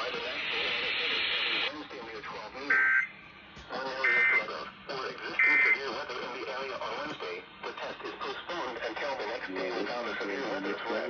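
Three short, high electronic alert tones conclude a NOAA Weather Radio weekly test, sounding in sequence over a broadcast voice, with a steady hiss in the background.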